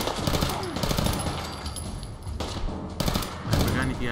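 Rapid bursts of gunfire from weapons in Fallout 4, loud sharp volleys repeating in quick clusters with brief pauses between them, mixed with a person talking.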